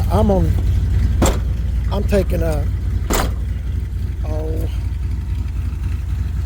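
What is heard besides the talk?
1984 Chevy C10 truck engine running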